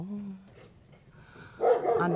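A nervous dog at a home garden where a gazebo is being built gives a few short, sharp barks, one early and a louder burst near the end, fairly close with a quiet gap between.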